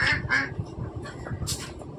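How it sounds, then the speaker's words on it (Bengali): A duck quacks repeatedly in bursts near a kitchen where onions are being softened, the nasal calls loud and clear against low background noise, with no talking. "ওইদিকে দেখেছো আবার হাঁস প্যাক প্যাক করছে"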